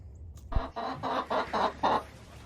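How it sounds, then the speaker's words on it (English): A Rhode Island Red chicken clucks in a quick run of about six rhythmic, close-up clucks after a brief tap, at dusk. "the chickens are starting to come in because it's starting to get dark"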